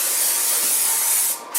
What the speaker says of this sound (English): spray it with some of the brake cleaner material